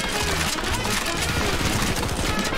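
Dense, rapid gunfire from CS:GO Zombies forms a steady, loud stream of overlapping shots with the crackle of automatic weapons, running continuously throughout.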